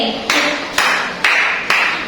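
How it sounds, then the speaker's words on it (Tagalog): A class claps together in four sharp, evenly spaced unison claps, each ringing briefly in a reverberant room, with no talking in between. "bigyan natin ng limang palakpak at sabihin magaling"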